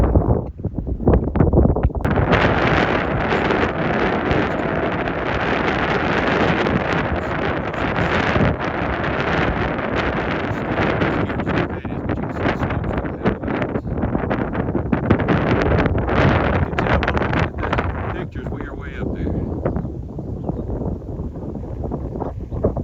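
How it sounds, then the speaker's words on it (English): Strong wind roars steadily across a microphone on a mountain section of the Appalachian Trail, a loud continuous buffeting rush with gusts rising and falling, easing slightly near the end. "this wind blowing this hard makes it feel cold"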